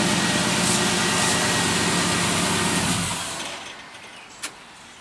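The LS-swapped engine of a 1974 Chevrolet Caprice convertible idles loudly and steadily, then winds down and shuts off, leaving a quiet tail broken by one brief click.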